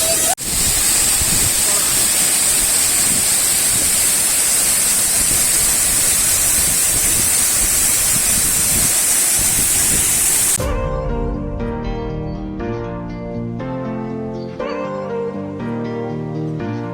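Valasamalai Falls in the Kalvarayan hills roars as a loud, steady broadband rush of falling water for about ten seconds, then cuts away to music.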